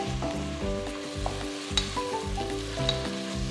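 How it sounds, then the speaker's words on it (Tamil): Onions and green chillies sizzle steadily in a hot pan over high heat, a continuous close crackle with tonal, music-like sounds layered over it. "நான் ஹையில் தான் அதை வதக்குறேன்."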